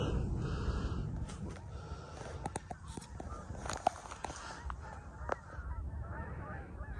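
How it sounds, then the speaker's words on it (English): Migrating geese honk overhead at sunset, a scattered series of sharp calls rising over a low outdoor rumble, some nearer and louder, others faint and distant. "Here are the geese doing their nightly migration"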